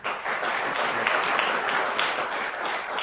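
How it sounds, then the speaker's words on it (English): Conference audience at the IP Alliance Conference 2025 applauding as the chair and president is introduced; steady, dense clapping from a sizeable crowd, fairly loud and continuous throughout with no talk over it. "Please welcome with thunderous applause our chair and president of the Global IP Alliance"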